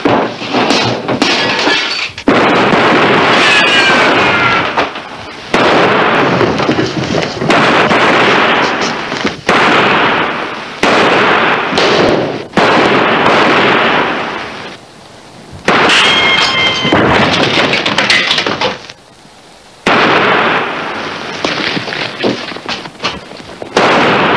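Gunfire in a western film scene, loud repeated shots and bursts rolling almost continuously, with echoing blasts separated by a few brief gaps.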